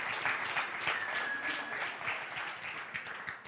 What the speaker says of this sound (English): Now that is a round of applause.